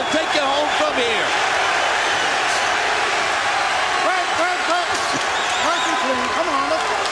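A boxing arena crowd cheers and roars steadily through the final minute of a world lightweight title fight, with a commentator talking over the continuous noise.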